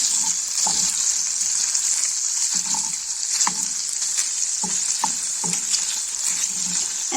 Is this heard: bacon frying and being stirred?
yes